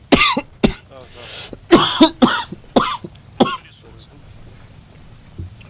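A person coughs in short, sharp bursts, about seven close coughs and throat clears in the first few seconds, then a quieter stretch with faint background hum.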